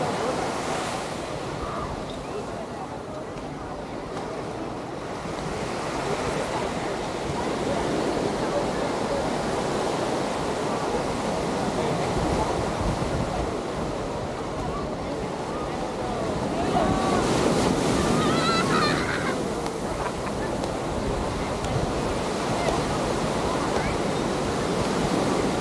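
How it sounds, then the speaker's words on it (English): Surf breaks steadily along Waikiki Beach in Hawaii, a continuous wash of ocean waves with wind buffeting the microphone, swelling louder at times while someone walks along the shore. "Walking on the beach."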